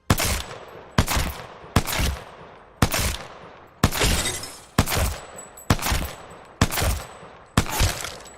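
Rifle gunfire from aim practice in Apex Legends: nine sharp, loud shots spaced roughly a second apart, each ringing out and decaying before the next, with no voices.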